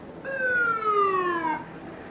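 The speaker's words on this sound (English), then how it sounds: "we had an ambulance come through here" An ambulance siren wails, sweeping downward in pitch over about a second and a half as it passes at a 1995 NASCAR race at New Hampshire International Speedway, loud and close, fading at the end.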